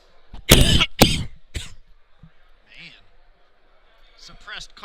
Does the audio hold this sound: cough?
yes